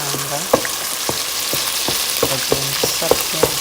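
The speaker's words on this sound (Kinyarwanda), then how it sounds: "Ukayikaranga, wamara gukaranga" Fish fries in a pan with a continuous loud sizzle, while a utensil scrapes and clicks against the pan in irregular strokes as the pieces are stirred and turned.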